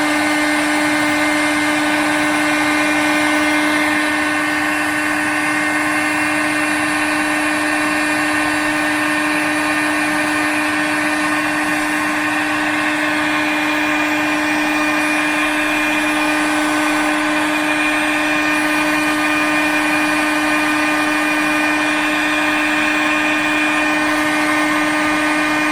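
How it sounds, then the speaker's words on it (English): A heat gun drones steadily and loudly for the whole stretch while burning old paint off metal parts of a Bradford GXL, a constant whirring fan tone with a fixed pitch and no voices. "so we're going to heat gun it off."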